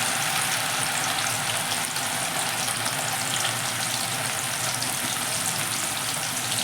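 Small anchovy fish deep-frying in hot oil make a dense, continuous crackling sizzle, loud and close, holding steady throughout.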